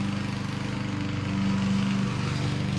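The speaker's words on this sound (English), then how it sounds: "is someone mowing their grass?" A lawn mower runs nearby in December, a loud, steady engine drone with a throbbing low hum that continues unbroken from start to finish.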